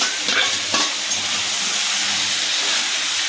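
Potatoes drop into a pan of frying chicken, bringing a brief burst of clatter and then a steady, loud sizzle and hiss that carries on alone.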